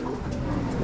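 Pigeons coo softly amid a busy pigeon market, a low murmuring burble against a dense, noisy background.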